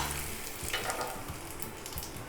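Mustard seeds and dried red chilies tempering in hot oil for a raw mango pachadi, a dense, even, quiet sizzle that stays unbroken throughout.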